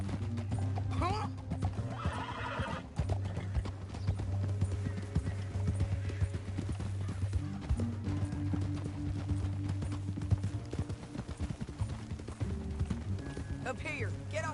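Horses in the video game Red Dead Redemption 2, with a loud whinny and snorting over low rumbling hoofbeats and steady background music, and a few more neighs later.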